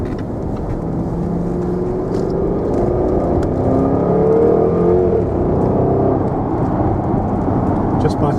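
A 2012 Jaguar XKR 5.0 supercharged coupe in sports mode overtakes a lorry. A steady engine drone builds as it accelerates, heard from inside the car with a voice talking over it.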